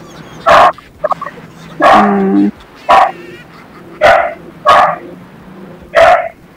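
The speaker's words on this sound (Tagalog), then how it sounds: "Ingay na yung aso." A dog barks repeatedly in short, loud bursts, about seven barks spaced roughly a second apart, with a brief whine between some of them.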